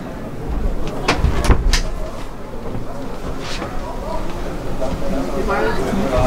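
Caravan sliding door at the Dusseldorf Caravan Salon trade show, slid along its track with a couple of sharp knocks early on, heard up close under ongoing talk and busy hall noise.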